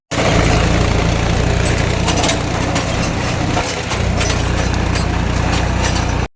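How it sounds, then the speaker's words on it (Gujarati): A tractor engine drones loudly and steadily close by as the rotavator churns a farm field, with rattling and crunching bursts throughout. "હવે આપણે હાંકવાનું છે રોટાવેટર"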